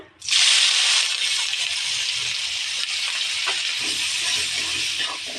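Onion, ginger and garlic paste hits hot oil in a pan where fish has just been fried, bursting into a loud, sustained hissing sizzle that holds steady to the end.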